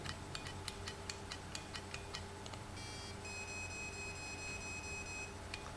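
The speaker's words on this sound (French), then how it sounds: "vous avez un premier bip et ensuite les autres bips pour vous indiquer le chiffre après la virgule" Short, sharp electronic beeps from a vape mod reading out coil resistance repeat in a quick series, followed by a longer steady high tone, all quiet against a low background hum.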